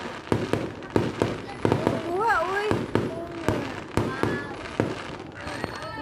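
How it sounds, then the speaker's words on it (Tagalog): Neighborhood fireworks for New Year burst in a rapid string of sharp, crackling pops from a moderate distance, while people talk and exclaim over them throughout. "Tuyok ang ilang fireworks."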